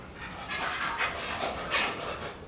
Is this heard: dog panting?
yes